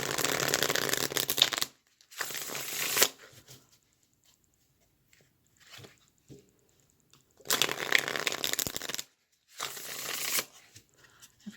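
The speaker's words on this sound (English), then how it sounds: "I'm going to get 2 cards from each deck here to start out with." Tarot cards shuffled in loud, dense bursts, two long riffles separated by quiet gaps with small taps and card handling, close and alone without talk.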